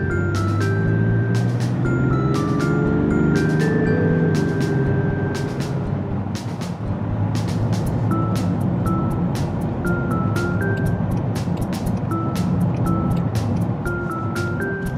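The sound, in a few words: Land Rover Defender 110 D350 accelerating while towing to merge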